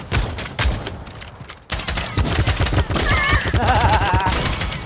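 Dense, rapid gunfire from the Realm Royale video game, with overlapping bursts close and loud that run almost without pause, and a few brief gaps.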